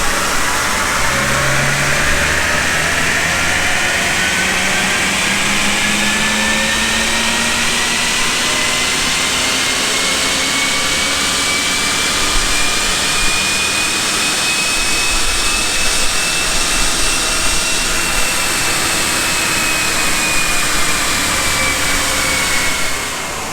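An Audi 55 TFSI engine with a fresh ECU tune on a chassis dyno in hot weather revs steadily upward in one long, loud, continuous pull, its rising pitch sweeping through the run with no talk over it.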